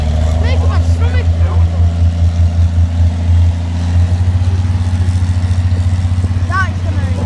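A six-wheel-drive military vehicle at a Whitby tractor-pulling event runs its engine with a steady, loud, low idling throb and a rhythmic chug, while people talk over it.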